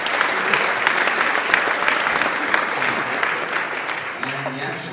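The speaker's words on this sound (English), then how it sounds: "Ladies and gentlemen, big round of applause for Paul Butler." Crowd applause for boxer Paul Butler at a boxing press conference, steady close clapping from the room that fades slightly toward the end as a voice begins to speak.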